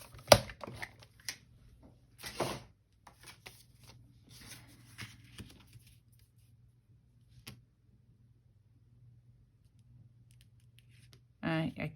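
Scissors snip through paper scraps in short bursts of crisp cutting, close up, trailing off into quiet with a faint steady hum, then a final rustle at the end.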